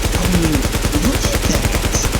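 An AK rifle fires rapid, evenly spaced automatic bursts in the shooter video game The Division 1, loud and close with no voices.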